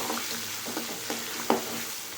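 A tempering of curry leaves and asafoetida sizzles in hot oil for chow chow kootu, a close, continuous frying hiss broken by a few crackling pops, one sharper burst near the end.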